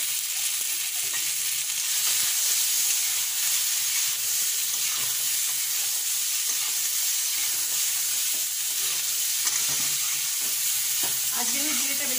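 Cumin and ginger fry in a pan with a continuous, crackling sizzle, accompanied by occasional stirring scrapes throughout.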